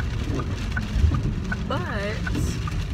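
Steady rain falls outdoors as a continuous hiss, with occasional brief tonal sounds over it.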